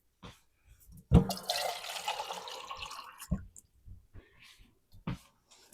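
Water poured into a pot for cabbage soup, a brief gushing splash lasting about two seconds amid quiet clinks and handling sounds before and after.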